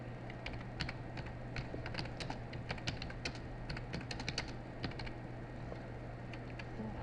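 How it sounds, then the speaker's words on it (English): Fast, steady clicking of keys on a computer keyboard goes on throughout, quiet and close, over a low electrical hum, with no talking. "underneath I'm going to write in Humpty Dumpty"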